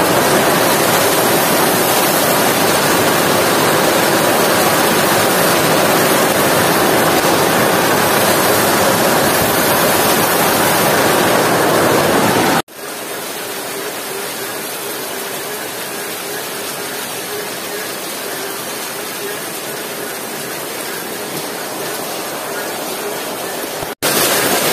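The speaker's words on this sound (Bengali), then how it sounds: "সারাদিন জল হচ্ছে, আর এখন পুরো অন্য স্পিডে পড়ছে" Heavy rain pours down hard in a village, a dense, loud, steady roar that holds for about twelve seconds before dropping abruptly to a softer but still continuous downpour, with no voices.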